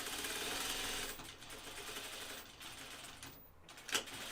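A sewing machine stitching anorak fabric, a rapid mechanical whirring rattle that runs steadily, slows and pauses briefly, then resumes, fairly quiet and close.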